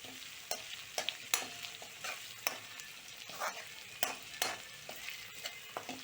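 Garlic fries in a pan while being stirred constantly, giving a soft sizzle punctuated by regular sharp scrapes and taps of the spoon, close and quiet with no voices.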